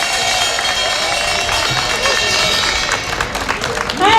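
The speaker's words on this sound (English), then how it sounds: "Give Katie a round of applause as she comes." Crowd at an outdoor Chinatown protest against anti-Asian violence clapping and cheering as a speaker arrives, a continuous dense applause with babble and whoops, swelling slightly at the end.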